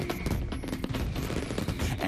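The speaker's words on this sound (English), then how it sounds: "Here it is watching a few shells burst." Fireworks shells bursting in a night sky, a dense run of sharp cracks and booms packed closely together, loud and continuous with a rumbling low end and no voices.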